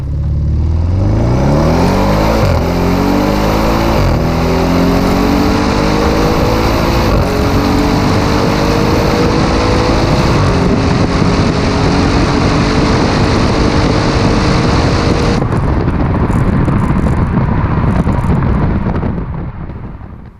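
An Audi RS6 accelerates hard on a flat service road, its engine roaring loudly through rising pitch sweeps with distinct gear shifts, heavy wind noise throughout, and no talking.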